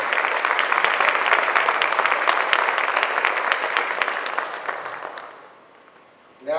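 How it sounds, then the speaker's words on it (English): Audience applause at a memorial celebration of life, dense clapping that holds steady for about five seconds, then thins and fades out. A brief sound returns right at the end. "Let's give her a round of applause."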